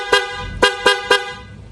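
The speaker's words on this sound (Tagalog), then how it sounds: "meron siyang loud horn" Loud aftermarket horn on a Suzuki Raider 150 fuel-injected motorcycle, four short sharp honks in quick succession, close and loud with no talk.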